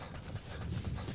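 A horse's hooves clip-clop in Metal Gear Solid V, a quick steady rhythm of close, fairly loud hoof beats.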